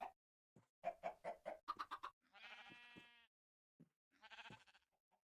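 Clucks and bleat-like animal calls come from Minecraft: a quick series of short clucks, then two longer drawn-out cries separated by a pause, faint and with no talk.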